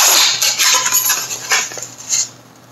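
A non-stick pan clatters and scrapes against utensils during cooking, with a run of close, bright metallic clinks and knocks and no talking.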